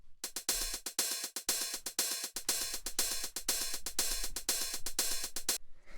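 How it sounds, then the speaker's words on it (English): Old-school drum machine closed and open hi-hats in a classic deep house pattern, a crisp, rapid, steady stream of ticking hats with occasional longer open hits and a faint low kick underneath. "it's just a closed hi-hat and an open hi-hat."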